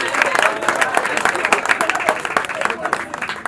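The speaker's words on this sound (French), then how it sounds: "nous tous on applaudit" A crowd applauds at a New Year's wishes gathering in Dabou, with loud, uneven clapping mixed with voices and crowd noise, close and lively throughout.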